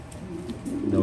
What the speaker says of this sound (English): These are all the cockbirds.